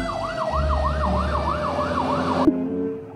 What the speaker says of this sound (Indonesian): Ini mobil truk pemadam kebakaran.